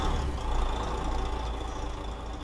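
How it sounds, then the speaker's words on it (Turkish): Neoplan Tourliner coach engine idling steadily in Euro Truck Simulator 2, a continuous low rumble with a faint knocking texture throughout, alone without talk. "Her zamanki gibi aracımızı çalıştıralım."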